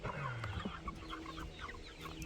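Meat chickens cluck and murmur softly while pecking at egg yolks on the ground, several birds close by with overlapping chatter, quiet overall.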